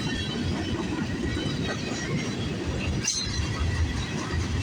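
CN freight train M301 with grain cars rolls past the VIA station in Sarnia, Ontario, a loud continuous rumble and rattle of wagons close by, with gusting wind and a brief sharp clank partway through.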